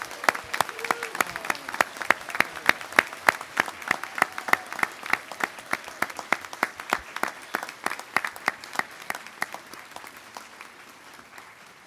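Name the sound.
audience applause for graduates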